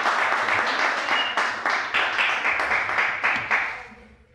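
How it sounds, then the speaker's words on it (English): An audience at a 1998 poetry reading in Bayview claps steadily in a room, a dense patter of hands that fades off toward the end. "So let's give Rahn a big round of applause."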